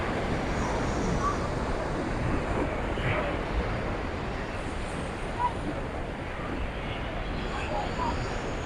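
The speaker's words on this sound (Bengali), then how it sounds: "রাত্রেবেলায় বেশি ঢেউ আসছে।" Ocean surf on Puri beach at night makes a steady, dense roar that fills the scene without pause, with waves breaking continuously and no distinct single crashes standing out.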